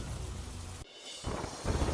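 Monsoon rain and thunder over Junagadh, Gujarat, a steady roar of downpour broken by a sudden drop and then swelling back up loud and close.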